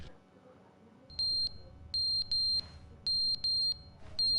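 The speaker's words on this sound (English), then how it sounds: "That's the fire alarm." Fire alarm in The Stanley Parable giving loud, piercing electronic beeps in short pairs and bursts, repeating steadily over a low ambient hum, with no talk.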